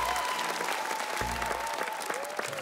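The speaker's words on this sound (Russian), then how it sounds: "Вы руками хлопали сейчас" Studio audience applauding at a television talk show, a steady wash of clapping that fills the short stretch, fairly soft overall, with a brief voice underneath.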